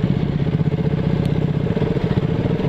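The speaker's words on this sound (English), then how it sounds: "So I'm riding Sukhang's bike right now, which is RC200" A KTM RC200 motorcycle is ridden in East Sikkim, its engine droning steadily with a throbbing mid-pitched rumble, close and loud throughout, with no talk.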